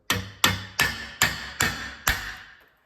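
Six sharp hammer taps strike an aluminum angle piece to pop out a rivet on a Van's RV-12 aircraft test kit, evenly spaced, close and crisp, each ringing briefly before fading.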